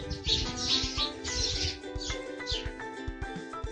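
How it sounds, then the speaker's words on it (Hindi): Small birds chirping and twittering in the morning in quick overlapping bursts, fairly close, with a busy squabbling rhythm and no talking. "तो ये सुबह सुबह चिड़ियों की नोकझोंक जो आपने सुनी।"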